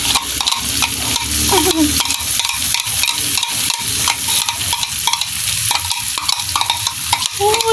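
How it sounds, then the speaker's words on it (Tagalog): Browned food fries in a pan after chili peppers are added, with loud, close sizzling and crackling and repeated scraping and stirring strokes of a utensil against the pan, steady for several seconds, with no talk. "Ito na, nag-brown na. Kaya nilagyan ko na ng sili. Ang ingay."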